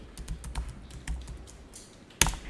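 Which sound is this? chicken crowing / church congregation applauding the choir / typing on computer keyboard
typing on computer keyboard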